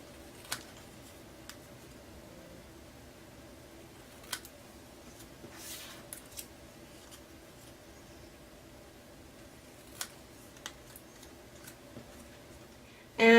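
Scissors snip extra paper from craft letters in a few sharp, isolated clicks spaced seconds apart, faint against a quiet room, with no talking.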